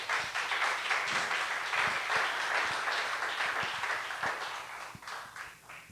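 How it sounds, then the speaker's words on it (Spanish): A church congregation applauds during a morning worship service, a continuous wash of clapping from many hands at moderate distance, slowly fading toward the end. "Denle un aplauso a Cristo en esta mañana."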